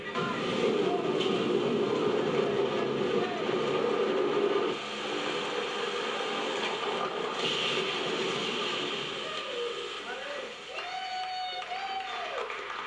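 A ride train rumbles and rattles along the track at a steady pace, a continuous roar with a few squeals and clanks toward the end.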